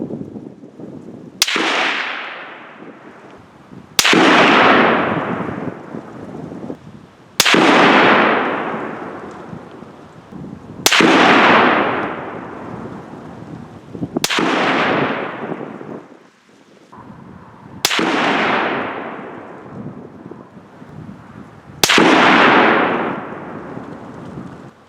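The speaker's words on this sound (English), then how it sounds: "So let's go shoot compound 3." A rifle is test-fired with compound 3. Seven loud, sharp shots come at an even pace, each followed by a long rolling echo that fades out in the open.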